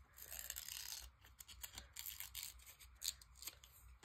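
Scissors cutting harvested paper pages for a glue book: a faint, close series of quick snips and crisp paper rustles with uneven rhythm over about four seconds, no talking.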